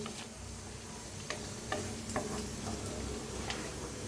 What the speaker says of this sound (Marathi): तर मिक्स करून भाजून घेऊया.